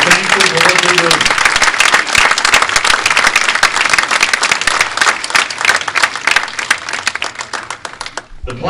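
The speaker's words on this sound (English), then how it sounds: "How about a nice round of applause?" Loud, dense applause from an audience at a New England racing show's award presentation, a voice briefly over it at the start, then a steady roar of clapping that thins out near the end.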